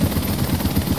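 A helicopter in the video game Dark Sector thrums steadily with a loud, close, rhythmic rotor chop and a broad engine rumble, continuous and without talk.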